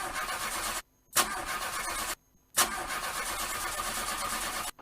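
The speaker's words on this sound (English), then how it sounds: "this your engine don kaput o" A car engine is cranked and catches twice, each attempt cutting to silence before bursting back into a steady, rough idle close by, with no voices.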